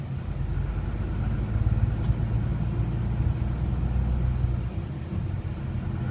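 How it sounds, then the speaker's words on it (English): A car drives along a road through Genoa, its engine a steady, close rumble that holds level throughout with no voices. "I've had a very nice drive through Genoa so far."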